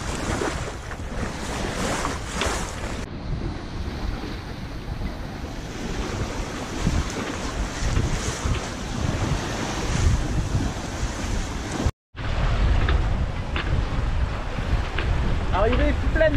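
Wind and breaking waves rush steadily around a sailing boat at sea on a Mediterranean cruise from Cassis to Bandol, a loud, continuous roar of gusts and surf with a brief dropout near the end.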